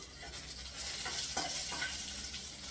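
A faint, steady sizzle rises from a beetroot rasam tempering frying in a pan, with a few soft stirring clicks over the hiss.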